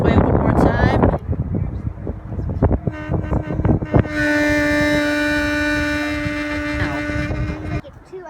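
A freight train with two engines passes, a steady loud rumble with a sustained horn-like tonal drone over it, after brief noisy talk and clatter at the start.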